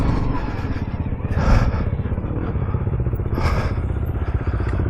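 A Stark Varg electric motocross bike is ridden off-road, its motor whine and rattling chassis clatter rising in two louder surges, with thumps and scraping from the terrain, close and fairly loud.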